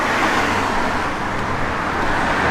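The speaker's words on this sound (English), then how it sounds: "It's got an H-pipe Flowmaster dual exhaust system in it." A 1969 Plymouth Road Runner with an H-pipe Flowmaster dual exhaust rumbling steadily nearby, a dense low engine roar that holds at a loud, even level through the brief stretch without any talking.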